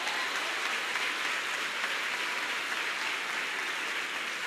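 A church congregation claps together in a steady, sustained round of applause, moderately distant and even throughout.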